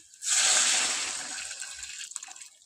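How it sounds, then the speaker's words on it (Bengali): Hot water poured into a pan of mutton curry in red gravy, a steady loud gushing splash that starts abruptly, holds for about two seconds, then thins to trickling and small splashes. "জল গরমটা ওর মধ্যে এখন দিয়ে দেবো আমরা"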